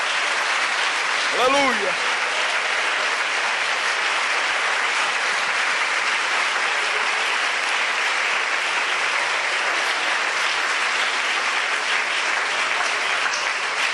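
A church congregation applauds steadily and loudly for the whole stretch, a dense, continuous wash of clapping, with one voice briefly calling out near the start.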